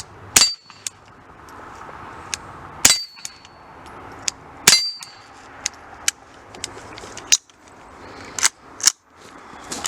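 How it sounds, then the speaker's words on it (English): Sharp .22 Long Rifle shots from a CMMG conversion kit ring out at irregular intervals, several followed by a bright metallic clang of a steel target, with quieter ticks and a low background hum. "22 long rifle isn't super loud"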